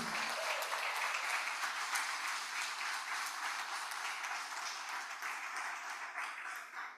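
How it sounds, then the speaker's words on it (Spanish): A church congregation applauds, a sustained, dense wash of many hands clapping that holds steady and then fades near the end, with no speech over it. "Denle un aplauso al Señor."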